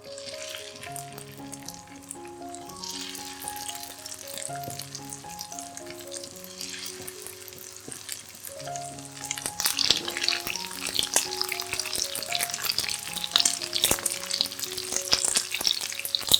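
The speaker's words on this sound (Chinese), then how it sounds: "待油热后放入豆腐，煎至表面金黄" Tofu fries in hot oil until golden, a soft steady sizzle that grows denser and louder halfway through, under quiet melodic background music.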